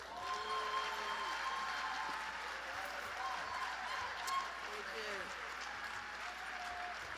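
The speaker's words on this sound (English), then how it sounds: "Let me welcome and give her a big round of applause, Yvette D. Clark." A crowd applauds at a Martin Luther King Jr. tribute event with sustained, even clapping at moderate distance, and some voices and cheers mixed in.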